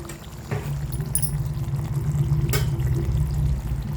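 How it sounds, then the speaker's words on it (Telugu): Dry dal is poured into a pot of bottle gourd that has cooked about 60 percent, for a vegetarian Hyderabad dalcha. A close, steady pouring rush starts after half a second and runs continuously, with no talking. "నేను ఇక్కడ మన పప్పుని ఇందులోకి యాడ్ చేసేసుకుంటున్నాను."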